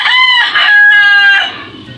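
A rooster crows loud and close in Surigao City, one full drawn-out cock-a-doodle-doo with a rising start and a long held note that fades away, heard alone without talk.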